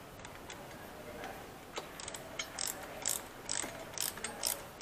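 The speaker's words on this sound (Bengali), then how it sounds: "এবার স্ক্রুগুলোকে টাইট করতে হবে।" An Allen key tightens screws on a rear master cylinder protector of a KTM 390 Adventure, giving faint scattered ratchet-like clicks and metal ticks, close and sparse, in a quiet workshop.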